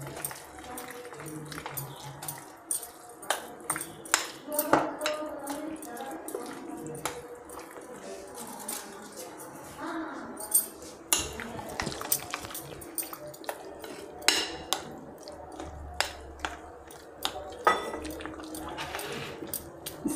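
Semolina batter with baking powder and water is stirred in a bowl, giving scattered wet clinks and scrapes of a spoon against the vessel, faint and irregular, with a voice talking at times.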